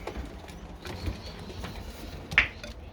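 Pigeons in a breeding loft give low, soft cooing throughout, with one brief sharper call or flutter near the end, close but quiet against a steady background.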